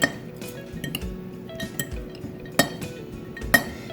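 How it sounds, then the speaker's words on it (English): A salad of microgreens, small tomatoes and cheese tossed with a spoon and fork in a bowl: scattered light clinks and scrapes of cutlery, with a few sharper knocks standing out. "I'm going to add in these little tomatoes, my cheese, a spoon and a fork, and I'm going to start tossing all of this together"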